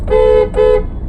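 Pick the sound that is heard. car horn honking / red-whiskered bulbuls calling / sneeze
car horn honking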